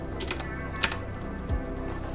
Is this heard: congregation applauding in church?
no